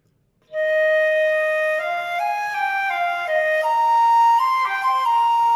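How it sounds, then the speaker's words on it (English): An old wooden flute plays the orchestral solo from Carmen, a clear melodic line of held and stepping notes with no vibrato, flat and unexpressive, close and prominent with no talk. "They just played these old wooden flutes and they just like hammered out all the notes."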